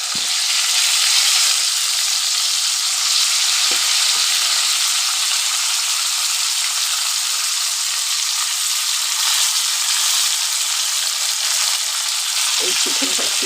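Chicken hits hot spices in a pan for murgh fotafot and sets off a loud, steady hissing sizzle that lasts throughout, close and continuous, with faint stirring scrapes now and then.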